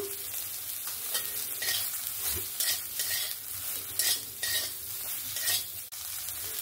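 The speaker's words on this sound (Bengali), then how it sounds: "সোয়াবিনটাকেও ভালো করে আমি 2 মিনিটের মতো নাড়াচাড়া করে নিয়েছি, একটু ভাজা ভাজা করে নিয়েছি" Soaked, squeezed soybean chunks frying with a little salt in a pan, a steady sizzle with repeated scraping and stirring strokes throughout, close and fairly quiet, no voices.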